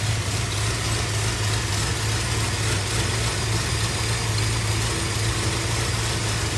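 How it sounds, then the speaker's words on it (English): A car engine idling steadily with a low, slightly uneven hum from a slightly rough idle and constant vibration, close by with no talking. "It has a hair of a rough idle"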